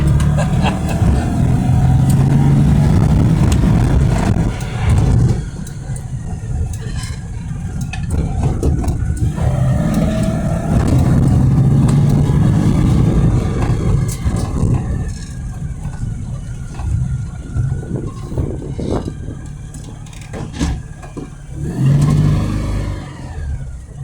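A 1986 Citroen Acadiane van taking a bend at speed, its small engine revving and droning loudly from inside the cabin, the pitch rising and falling with throttle changes amid road rumble and rattles.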